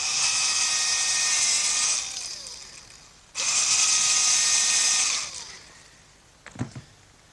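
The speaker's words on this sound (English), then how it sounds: "I'm going to have to drill a pilot hole for the screws" A power drill whines as it bores pilot holes for screws into hard oak, two sustained bursts with a pause between, followed by a couple of faint knocks.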